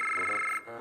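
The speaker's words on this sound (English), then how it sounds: "Jim, that's your pants phone. Aren't you gonna answer" A cartoon pants phone trills with a steady electronic ring that holds for over half a second, then cuts to a softer tone, with no talking over it.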